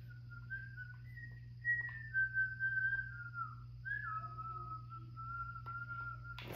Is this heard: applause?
no